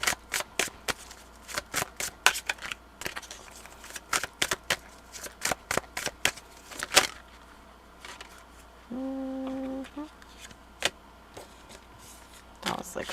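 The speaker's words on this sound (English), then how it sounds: "That was like a weird shuffle." Tarot cards are shuffled by hand in quick riffling bursts and sharp flicks, close and crisp, with pauses between; a brief steady hum intrudes near the end before a final card snap.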